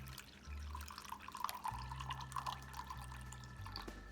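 Red wine vinegar poured into a container, a steady thin liquid trickle with faint dripping running on for several seconds, fairly close, with a low hum underneath.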